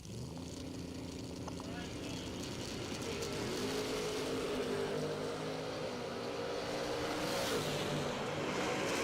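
Drag racing cars launch side by side down the strip, one popping a wheelie in the left lane. A dense, continuous engine roar swells and stays loud throughout, with an announcer's commentary running over it.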